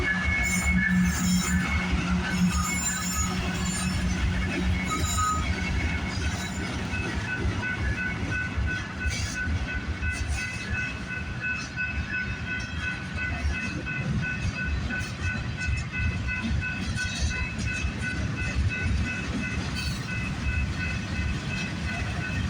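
A CPKC freight train rolls past at a railfanning spot in a long, steady roar of wheels and rail noise with faint squeals and clatter, sustained and close throughout.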